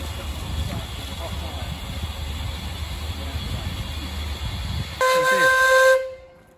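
Rumbling steam locomotive noise on a heritage railway with a steady mechanical hum, then a brief louder burst with a whistle-like tone near the end before cutting off.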